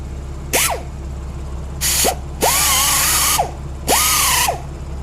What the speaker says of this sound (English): I'm going to hit that with the grinder.